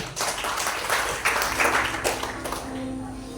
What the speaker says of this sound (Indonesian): kita beri tepuk tangan dulu saudara